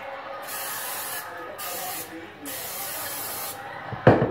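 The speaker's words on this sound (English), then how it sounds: "I use this Great Value canola spray" Great Value canola cooking spray hisses onto a waffle maker in steady bursts, a few seconds each with short pauses between, close and fairly loud, before a brief clatter at the end.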